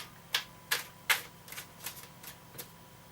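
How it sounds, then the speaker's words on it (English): A deck of tarot cards being shuffled, heard as a quiet series of crisp, evenly spaced card flicks and snaps, the first few sharper and the later ones softer. "I'd like to shuffle them for ages because I kind of like the feeling of shuffling cards"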